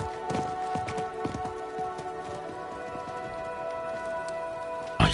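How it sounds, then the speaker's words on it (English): Merchant's horse in a video game, hooves clip-clopping in a quick, uneven series of close knocks over quiet ambience, fading out before a sudden final sound. "I think that was the merchant's horse."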